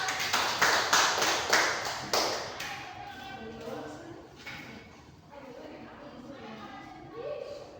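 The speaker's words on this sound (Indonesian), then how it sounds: "Berikan aplaus." Classroom applause from students, a burst of rhythmic clapping that is loud at first and then fades into scattered taps as talking begins.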